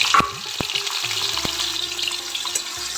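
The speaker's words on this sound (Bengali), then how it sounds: "একটু একটু ভেজে নেব পটলগুলো" Pointed gourd (potol), salted and coated in turmeric, frying in hot mustard oil over medium heat, a steady close sizzle with a few sharp clicks and spatters throughout.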